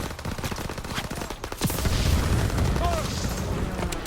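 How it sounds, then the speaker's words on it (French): A flamethrower fires in Call of Duty WWII, a loud sustained roaring burst that swells after a brief pause and carries on steadily to the end over earlier rapid in-game gunfire. "un petit coup de lance-flamme et il meurt"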